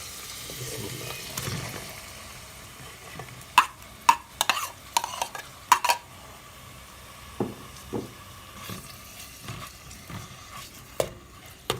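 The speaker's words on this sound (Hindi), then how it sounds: "अब हम ये चिकन जो हमने क्यूब्स की शक्ल में काटा हुआ था अब हम इसमें ये शामिल करेंगे।" Cubed chicken pieces dropped into a hot pan and stirred for macaroni, giving a low steady sizzle broken by a series of sharp utensil clacks and scrapes through the middle, fairly close and moderately loud.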